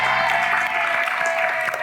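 Studio audience at a televised dating show applauds a challenge winner, a steady dense wash of clapping that holds evenly throughout.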